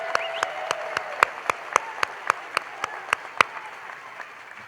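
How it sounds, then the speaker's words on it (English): An audience at a school district awards celebration claps for award nominees, a moderate wash of applause punctuated by a regular series of sharp, close hand claps that stop after a few seconds, leaving a fading murmur. "Give everyone a round of applause."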